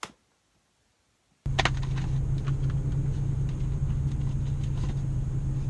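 After a second of near silence, a Ford Focus ST with a Ford Performance exhaust starts a deep, steady idle rumble at a traffic light, close and continuous, with faint surrounding traffic noise.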